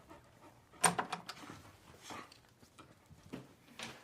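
A dog pants in quick, uneven breaths nearby, with a brief louder burst near the start and soft rustling between the bursts.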